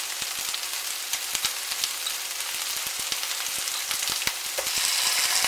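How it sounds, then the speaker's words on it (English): Onions frying with jar garlic and fresh ginger in a pan, a steady soft sizzle broken by quick scraping and tossing clicks, close and fairly quiet with no voices. "I want to mix that through and toss it around until the onion just starts going brown"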